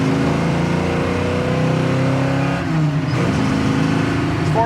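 A 1967 Chevrolet Camaro RS/SS with a 327 small-block V8 and aluminum heads pulls hard to about 4,000 RPM. The loud, steady engine roar is heard up close, with a brief dip partway through as it shifts, and no talking.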